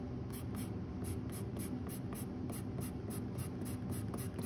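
Colored pencil burnishing on paper, a steady close scratchy rubbing in rapid regular back-and-forth strokes that continues without a break.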